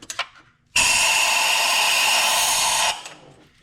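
An air compressor kicks on beside a Ford Super Duty 6.2 truck during spark plug work, a steady loud hissing roar that runs for about two seconds after a few faint clicks, then cuts off abruptly.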